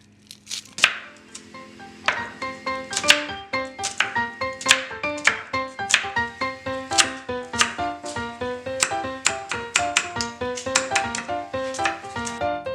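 Rapid, steady knife chops through onions on a cutting board, sharp close taps repeating in a quick rhythm with no talking.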